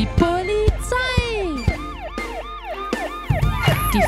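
A police siren in a children's song wails in repeated rising and falling sweeps, loud and close, with other vehicle sounds and musical bits between the wails.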